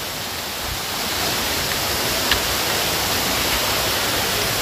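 A hidden waterfall in the Goa hills roars as an unbroken, hissing wash of falling water, close and steady throughout, with no voices.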